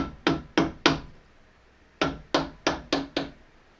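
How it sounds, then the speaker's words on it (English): A new bearing is tapped onto a spindle with sharp, close hammer knocks. Three come in a quick row, then a pause, then five more at a steady pace. "So now gently from the spindle here, tap it in."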